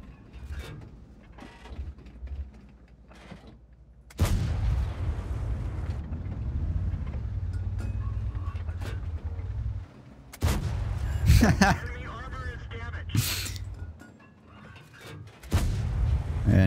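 Tank cannon shots in World of Tanks, a few heavy booms with sustained rumbling engine and battle noise between them, fairly distant in the mix and without talk.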